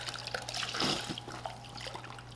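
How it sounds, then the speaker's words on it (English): Beef broth, four cups of it, poured into a pot for a sauce, a soft liquid splash and trickle that swells briefly then settles into a light steady pour, moderately close and fairly quiet. "I'm going to do 4 cups of beef broth right here."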